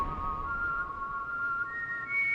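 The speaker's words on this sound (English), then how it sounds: "That whistling is haunting" Haunting melodic whistling from a No More Heroes video game song, a clear sustained tune holding long notes over a soft background for a couple of seconds.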